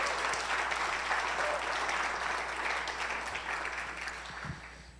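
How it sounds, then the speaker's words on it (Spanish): A church congregation gives a sustained round of applause, a thick, even patter of many hands that slowly fades toward the end. "Sí, le puedes dar un aplauso a nuestro Dios."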